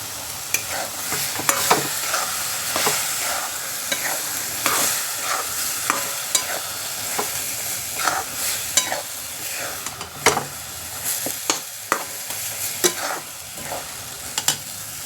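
Amla pickle tossed with spices in a frying pan, the spoon scraping and stirring in an irregular rhythm over a soft, continuous sizzle, close and fairly loud, with no voices.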